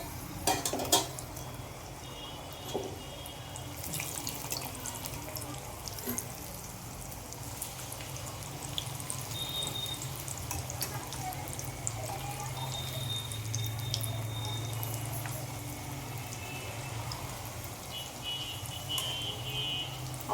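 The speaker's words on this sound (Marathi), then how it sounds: "ठिकाणी आपण पापड्या तळून घेतो." Papdi dough crisps frying in hot oil, a continuous bubbling sizzle with scattered drip-like pops and an occasional light clink of utensils, steady and moderately loud without speech.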